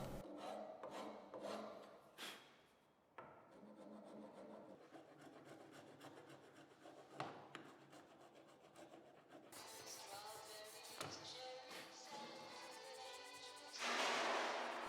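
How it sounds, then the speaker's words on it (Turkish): A hand rasp scrapes across a wooden puukko knife handle in rhythmic back-and-forth strokes, close and clear, with brief pauses between passes. "Ufak tefek simetri hatalarında elde ahşap törpüsüyle düzelteceğim."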